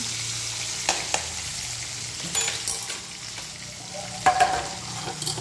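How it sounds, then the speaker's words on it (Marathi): Potatoes stir-fried in a pan for a potato and pea bhaji: a steady frying sizzle with occasional spatula scrapes and clicks against the pan. "बटाटे टाकले की ते परतायचे"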